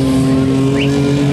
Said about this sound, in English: I think I heard someone shift there.